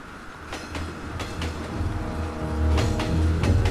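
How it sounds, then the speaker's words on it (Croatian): Train rattling along with rhythmic clickety-clack of wheels over rail joints and a deep rolling rumble that grows louder toward the end, no speech. "Izgradnja transsibirske željeznice pod Nikolajem II."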